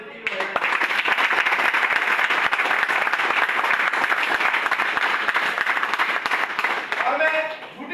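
An audience at a Modicare networking gathering claps: dense, sustained applause for about seven seconds that swells quickly and fades at the end, with a voice speaking over it.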